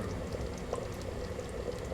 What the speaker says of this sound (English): Now it's time to add a liter of stock.